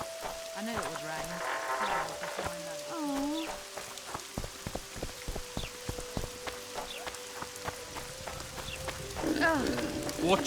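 Rain falls steadily on surfaces in The Witcher 2, soft patter under scattered clip-clop of hooves and other game sounds, with voices speaking over parts of it.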